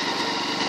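A motorcycle engine runs with a steady, buzzing drone, close and continuous through a very short stretch, with no voices.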